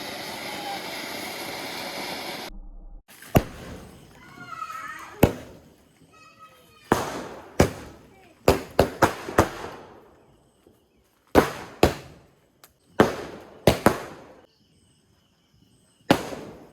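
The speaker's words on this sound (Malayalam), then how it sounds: "പിന്നെ പടക്കം പൊട്ടിക്കലും പൂത്തിരിയും അങ്ങനത്തെ കുറച്ച് രസകരമായിട്ടുള്ള കാര്യങ്ങളായിരുന്നു." Firecrackers burst during a Vishu celebration in a home courtyard, with a string of sharp, loud bangs coming singly and in quick clusters after a stretch of steady hissing noise.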